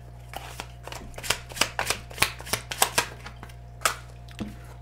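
Tarot and oracle cards being shuffled by hand, a quick irregular run of crisp riffling snaps and soft slaps, close and fairly quiet over a faint steady hum.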